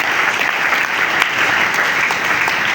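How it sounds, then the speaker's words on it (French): A church congregation at a French-language worship service applauds in a dense, steady burst of clapping that stays loud and close throughout, with no voices over it. "Acclame la parole du Seigneur."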